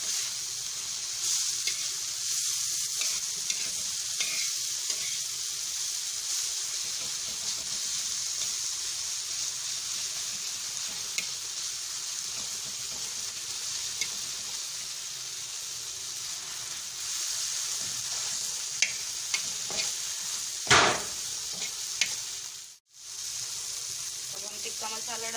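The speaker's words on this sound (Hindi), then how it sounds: "हरा धनिया, हरी मिर्च, टमाटर के साथ हमें इसे अच्छे से भूनना है।" Tomatoes with green coriander and green chili fry with a steady, hissing sizzle that continues throughout, with occasional clicks and one brief sharp knock near the end.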